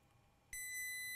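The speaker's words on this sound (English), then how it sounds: "Now diode mode beeped, right?" Multimeter in diode mode, checking a line on an Alienware M18 R1 laptop board, gives a single sudden steady electronic beep that starts partway through and holds, close and clear over a quiet background.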